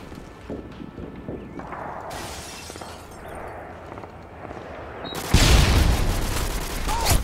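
Call of Duty: Modern Warfare 2 gunfire in a 2v2 match, a mix of scattered shots and bursts building to a loud broadband volley near the end, with game effects layered underneath.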